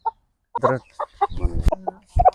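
Chickens cluck in short bursts at a farm where goats and hens roam together, several close, fairly loud calls separated by brief pauses, with no talking.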